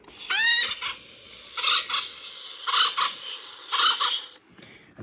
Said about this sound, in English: 11 o'clock is the acorn woodpecker.